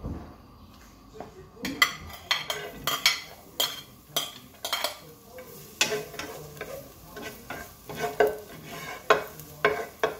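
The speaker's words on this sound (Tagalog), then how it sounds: "Siguro pwede na natin ilagay yung ating garlic." Garlic frying in a pan with sardines for ampalaya with eggs, a continuous sizzle broken by frequent scraping stirs and clinks of a utensil against the pan, close and fairly loud.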